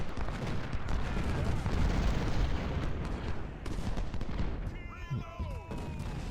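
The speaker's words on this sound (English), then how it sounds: "Let's hit their artillery back." Artillery and gunfire in the Civil War strategy game Ultimate General: Civil War, a steady crackle of distant cannon and musket volleys throughout, with a few whistling shell sounds near the end.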